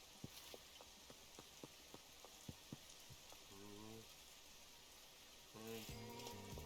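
Quiet in-game rainfall in Schedule 1 makes a soft, steady wash, punctuated by a run of small, evenly spaced ticks and two short tonal game sounds.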